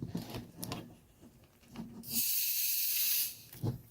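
A sharp fizzing hiss of Coca-Cola Zero Sugar Oreo flavor soda rises suddenly and holds for about a second before cutting off, with a few soft handling knocks before and after.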